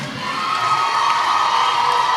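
A studio audience at a televised school championship broadcast cheers and shouts for the contestants, a steady, loud crowd roar with whoops sustained throughout.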